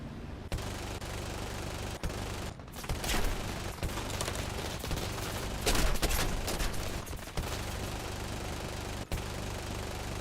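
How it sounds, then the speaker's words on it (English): Rapid machine-gun fire rakes a player's plane in a World War II air-combat video game, with a P-39 fighter on its tail; dense, loud bursts of shots run almost nonstop over a roaring engine. "Something is shooting at me."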